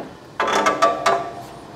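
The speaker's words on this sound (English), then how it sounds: "And then you pull up your latch from underneath." The hood latch of a 1968 Ford Mustang convertible, a Shelby KR500 tribute, is pulled from underneath, giving a close, loud mechanical clack followed by two quick metallic ratcheting clicks.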